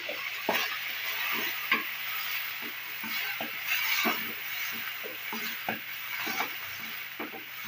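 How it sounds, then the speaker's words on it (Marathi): Vegetables for a pizza topping fry in oil in a pan on the stove, a steady close sizzle and hiss with repeated scraping and stirring clicks throughout, with no voices. "ती मातशी एक तेलान अशी हे करून घेवया, तळसून घेवया"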